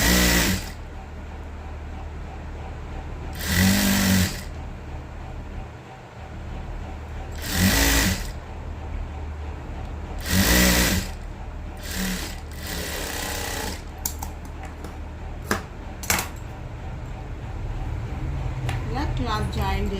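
A sewing machine stitches cloth for a blouse back in short loud bursts of rapid whirring, separated by quieter pauses with handling noises, and someone talks through much of it.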